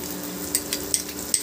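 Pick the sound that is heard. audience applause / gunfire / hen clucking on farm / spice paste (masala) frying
spice paste (masala) frying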